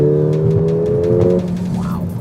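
A 2018 Mercedes-Benz GLA 45 AMG in Sport Plus revs loudly on a track, its engine roaring steadily before the pitch drops as the throttle comes off partway through.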